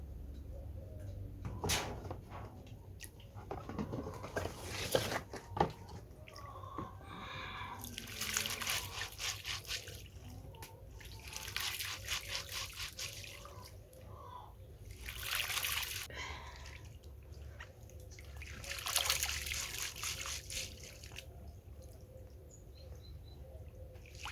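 Water poured off washed wheat and rice for village-style keşkek, trickling and splashing in several separate bursts that recur every few seconds, moderately close, with faint birdsong in the background.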